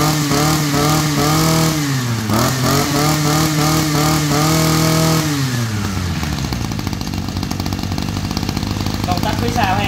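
A Mitsu TL231 brush cutter engine runs steadily, its pitch dropping twice as it throttles down to a rougher idle, loud and close with someone talking over it.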